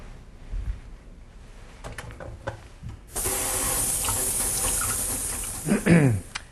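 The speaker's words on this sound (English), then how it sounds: "so I'm going to first wash my hands" Hands being washed under a running tap before an abdominal physical examination: a soft hiss starts, then a steady, loud rush of water with splashing and rubbing toward the end.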